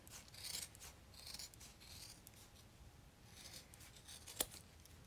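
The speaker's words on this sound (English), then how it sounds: "now I will go around and cut the edges, trim the edges, I mean, all the way around" Scissors snip around the fabric edges of an in-the-hoop owl flap purse, giving soft, close, intermittent cutting and rubbing sounds with a sharp click near the end.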